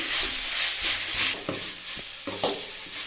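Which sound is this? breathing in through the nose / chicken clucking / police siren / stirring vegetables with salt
stirring vegetables with salt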